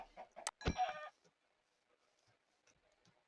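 Minecraft chickens give a short, fairly close burst of clucks, preceded by a few quick chirps. Faint scattered sounds follow in near silence, with no one talking.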